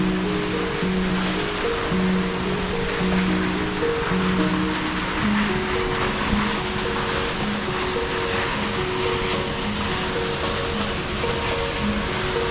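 Perrine Coulee Falls in southern Idaho pours in a loud, continuous broadband roar of falling water. The sound stays steady throughout with faint tonal hums beneath it.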